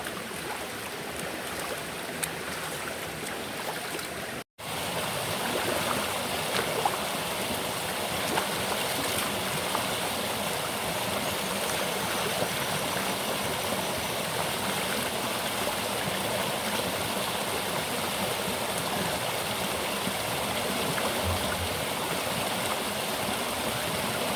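River water flowing and rushing steadily in Jamaica where people bathe and wash hair, a dense broadband hiss that runs continuously, with one brief dropout early on.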